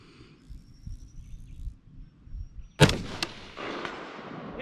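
A Stag 15 rifle fires one sharp, loud shot at a steel popper target, followed by a few fainter cracks and a lingering outdoor rumble after a low, noisy lead-in.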